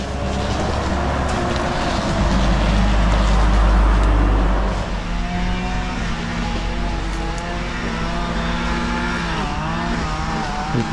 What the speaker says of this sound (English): You can see the road down there that goes through the village, which is a very busy road